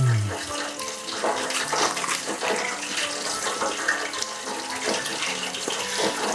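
Tap water running steadily into a sink while chicken pieces are rinsed for nuggets, a continuous close splashing gush with small shifts as the pieces move under the stream.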